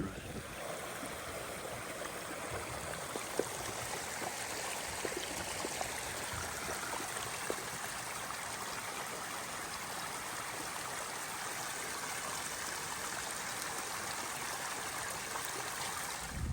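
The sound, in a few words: water running through dam spillway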